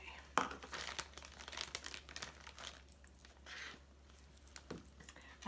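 Plastic bag crinkling and rustling close by as butter chicken curry ingredients are emptied into it, a sharp crackle near the start and then softer, uneven crinkles.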